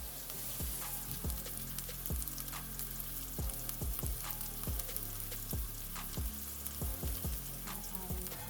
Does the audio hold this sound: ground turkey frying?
yes